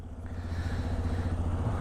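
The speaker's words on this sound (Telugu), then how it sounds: "బైక్ అయితే కోల్డ్ స్టార్ట్ చేస్తున్నాం" A motorcycle engine idles steadily just after a cold start on a morning ride in Munnar, Kerala, giving a close, even low rumble with no voices.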